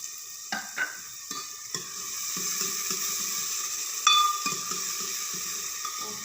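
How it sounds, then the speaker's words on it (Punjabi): Cumin and onion sizzling in hot oil for a turnip stir-fry, a steady loud frying hiss with occasional pops and stirring scrapes, no talking. "ਪਹਿਲਾਂ ਜੀਰਾ ਪਾ ਦਾਂਗੇ ਜੀ ਨਾਲ ਦੀ ਨਾਲ ਪਿਆਜ਼ ਕਿਉਂਕਿ ਤੇਲ ਗਰਮ ਸੀਗਾ"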